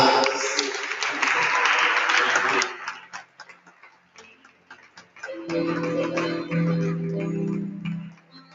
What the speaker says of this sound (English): may we also send them back with loud hand claps